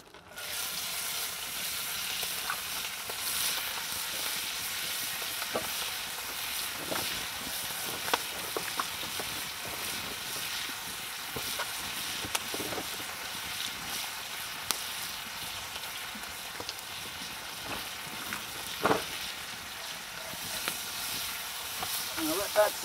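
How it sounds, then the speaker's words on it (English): Chopped onions, celery, carrot and red pepper sautéing in a pan, a faint, steady sizzle with occasional soft pops and crackles, heard alone. "I'm going to let that saute just a little bit."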